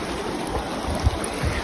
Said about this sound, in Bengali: তো আমি এবার একটু জলে নামছি, জল ঠান্ডা আছে কিন্তু